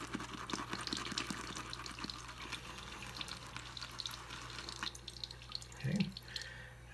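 Water trickles and drips steadily into a bowl of CBL shaving soap lather with soft wet stirring and sloshing noises, close by, with a brief louder burble near the end.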